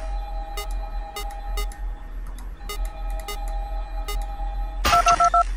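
Telephone dialing tones in the horror game Five Nights at Candy's 2: a series of short, sharp tonal beeps spaced out over a steady low hum, ending in a louder burst of rapid tones.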